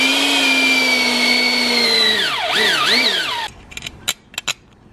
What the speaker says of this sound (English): it's best to use the pneumatic shears to cut the straight sides